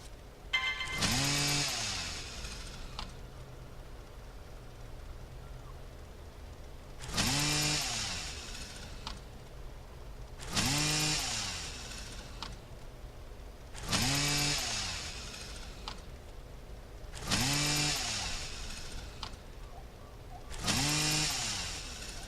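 A harvestable tree is cut in Entropia Universe, heard as a chainsaw-like tool whine that revs up in six evenly spaced bursts of a couple of seconds each over a low steady hum; no voices.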